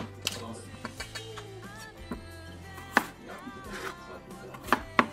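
A knife chops potato on a cutting board for vegetable soup, with sharp irregular knocks spaced through the clip while people talk in the background.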